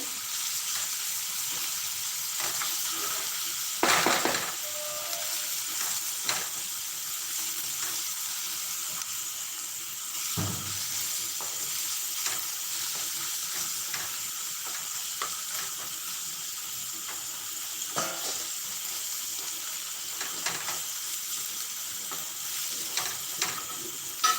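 Ginger, garlic and onion paste sizzles and fries steadily in a hot pan for a rajma curry, with occasional scraping stirs and clinks of a spoon against the metal, close and continuous throughout.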